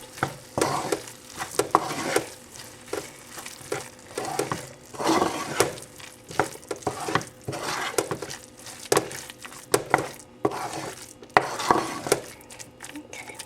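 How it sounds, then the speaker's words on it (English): A filling being stirred together with lime juice in a pan, giving repeated scraping and sizzling stirs of moderate loudness close by, with no talk. "now I'll just add in the lime juice and give that a good mix"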